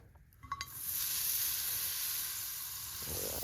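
A big slab of Irish butter hits a hot pan outdoors in a Montana winter, bursting into a loud, continuous sizzle and hiss after a few brief clatters, close and steady with no talking.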